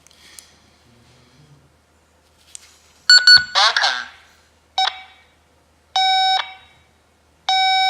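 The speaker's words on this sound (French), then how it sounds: "nous avons un bruit toutes les 3 secondes" A ProTEK GPS tracker receiver gives sharp, loud electronic beeps at regular intervals of a few seconds, each a short harmonic tone burst, with a brief stretch of speech between the early beeps.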